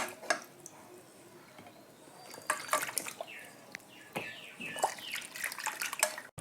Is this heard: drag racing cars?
no